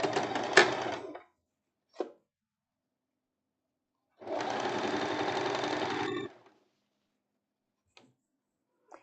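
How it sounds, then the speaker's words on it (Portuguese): A sewing machine stitches the crotch seam of elastic-waist trousers in two close, steady runs of rapid mechanical chatter, the first about a second long and the second about two seconds, with faint clicks in the pauses. "agora eu venho costurando aqui o outro, do entre ganchos"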